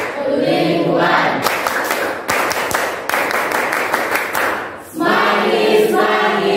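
A classroom of students performs a rhythmic clapping chant, with bursts of sharp, rapid claps in a steady pattern between stretches of loud, close group chanting voices.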